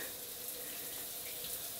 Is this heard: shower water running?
yes